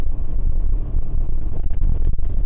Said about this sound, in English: I would say a little bit more rear end noise with the Peterbilts as opposed to the Cascadias.